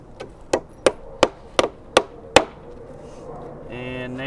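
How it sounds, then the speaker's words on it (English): A hammer drives nails through wooden slats into a 2x4 underframe on a repurposed compost container, seven sharp, evenly spaced whacks close to the microphone, then a low hum. "nail those slats back into the 2x4 underframing"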